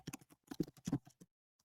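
Quiet, quick keyboard typing: a short burst of clustered key clicks, then a pause and one last tap.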